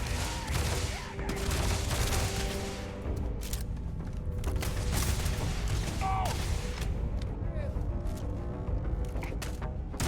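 Grendel rifle gunfire in the video game Starfield, several loud sharp shots in quick bursts with booming echoes and mechanical clatter between them.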